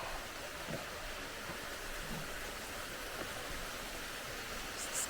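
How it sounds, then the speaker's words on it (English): Waterfalls in Victoria Park heard as a steady, faint, hissing rush of falling water, continuous and even throughout with no voices. "I got sidetracked by the sound of the waterfalls"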